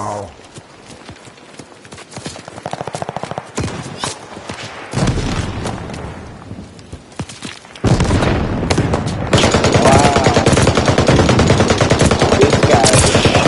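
Video game gunfire crackles in rapid bursts that grow denser and louder toward the end, with a voice talking over the action.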